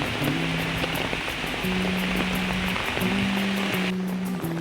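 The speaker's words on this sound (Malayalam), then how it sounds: "ഇവിടെ നല്ല മഴ പെയ്യുന്ന സമയത്താണ് ഞാൻ വന്നത്" Heavy rain pours steadily at the Thenmala deer rehabilitation centre in Kerala, a dense, constant hiss with faint tonal hums underneath.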